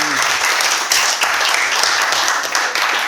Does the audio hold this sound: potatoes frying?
no